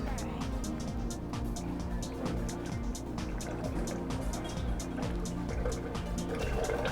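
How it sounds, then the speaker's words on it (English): Ice cream mix for butter pecan pours steadily into an ice cream machine on a Kentucky dairy farm, a continuous liquid glugging and trickle over low machine rumble. "We're gonna pour it in this machine."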